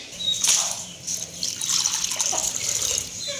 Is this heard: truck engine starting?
no